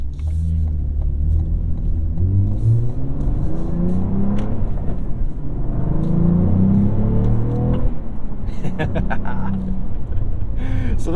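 A 2022 Cadillac CT4-V Blackwing's 3.6-liter twin-turbo V6 revs hard on the move, its loud engine note climbing and falling repeatedly over a steady road rumble.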